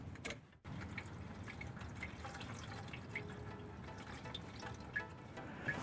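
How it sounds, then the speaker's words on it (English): Engine coolant drains from two car radiators into a large paint bucket, a continuous trickling, splashing flow of liquid heard close up with a few scattered drips and no talking. "I don't know how long it's going to take to drain 2 radiators, but I got a giant paint bucket here to catch all the coolant"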